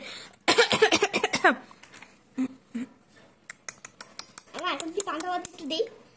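A woman coughs in a burst of rapid hacking, followed later by a string of short coughs and throat noises, with some talking mixed in.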